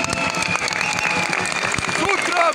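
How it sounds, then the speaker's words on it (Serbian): Dense crowd applause at an opposition rally in Belgrade, many hands clapping loudly and continuously with cheering voices mixed in throughout. "Jedan veliki aplauz za sve njih."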